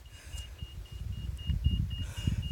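Laser level receiver on a grade rod, used while laying out a pond, beeping fast: a quick, evenly spaced train of short high beeps over a low outdoor engine rumble.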